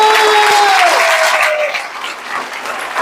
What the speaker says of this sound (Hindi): एक बार जोरदार ताली बजा लो।